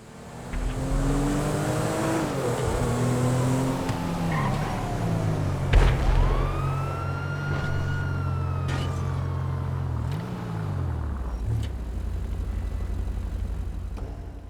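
An Ubernox Sentinel car in GTA V cruises at night, its engine droning steadily with rising and falling revs as it shifts through gears, with a brief sharp knock midway and no talk.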